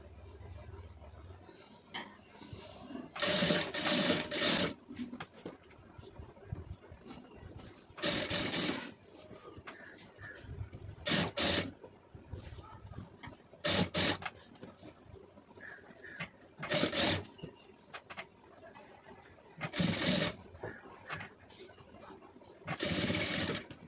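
A sewing machine stitches piping in short bursts of steady whirring, several separate runs spread over the span with quieter pauses between them and no talk.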